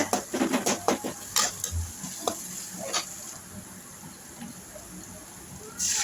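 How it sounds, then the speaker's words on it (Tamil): A spoon stirs and scrapes sizzling onion and tomato in oil in a pan for a fish curry, with quick clinks and scrapes at first, then a steady soft sizzle, and another scrape at the end. "இந்த வெங்காயம் தக்காளி எண்ணெய் பிரிஞ்சு வர்ற அளவுக்கு நல்லா தொக்கு மாதிரி நல்லா வதங்கிடணும் இந்த மாதிரி நல்லா வதக்கி விட்டுக்கோங்க"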